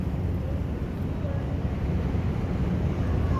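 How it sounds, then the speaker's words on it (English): A ferry's engines rumble low and steady under heavy wind buffeting as the boat starts moving out across the water. "Hear those engines starting to rumble."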